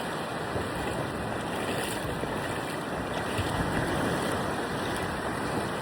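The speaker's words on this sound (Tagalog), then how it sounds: "Ang sarap ng mga alon guys." Ocean waves at Patar Beach in Bolinao, Pangasinan wash in a steady, loud roar of surf with wind buffeting the microphone throughout, with no voices.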